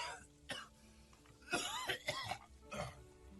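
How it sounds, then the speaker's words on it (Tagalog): A person coughs and clears the throat several times in close, harsh bursts, a persistent sick cough in an office setting with short gaps between fits. "rinig ko yung ubo mo hanggang sa opisina ko"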